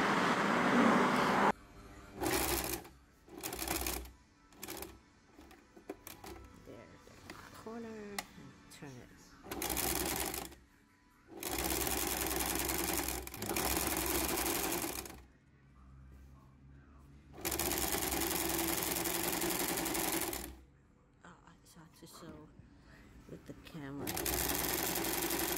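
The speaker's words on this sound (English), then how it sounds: "you leave the needle in and lift the sewing foot and swivel the belt to a new position" A sewing machine stitches a corset belt in several loud bursts of steady whirring, separated by quiet pauses and clicks as the work is turned, with a voice talking in places.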